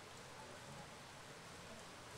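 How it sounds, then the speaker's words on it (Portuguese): Steady rain falling during a Copa Caribe 2015 football match between Deportivo Cancún and Domingão Jundiaí, a soft, even hiss of rain that carries on throughout. "Volta a apertar a chuva."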